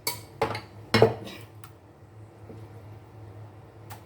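A metal teaspoon clinks sharply against a dish three times in quick succession while ingredients are added during home lunch cooking, then a faint tap later over a low steady kitchen hum.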